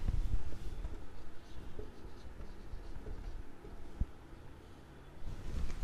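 Pen scratching across paper while filling in an accounts entry, close and steady with short strokes and pauses, quiet and alone without talk.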